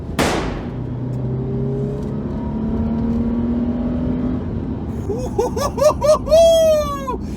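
A Toyota FJ Cruiser 4x4 with a 4-litre V6 accelerating hard uphill: a steady engine drone climbs in pitch, then gives way to a series of rising, whining sweeps that grow louder toward the end.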